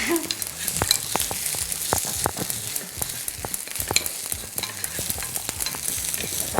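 A spoon stirs food that sticks and sizzles in a hot pan while a Turkish restaurant dish cooks, giving a constant frying hiss broken by frequent scraping clicks.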